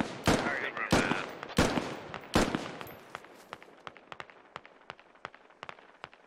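Squad gunfire crackles in several loud, close bursts over the first three seconds, then gives way to a quicker run of fainter, more distant shots.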